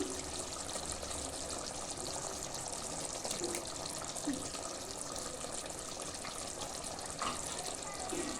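Water pours into cooking masala for chicken gravy in a hot pan, with a steady sizzle and bubbling hiss that continues throughout, with no voices.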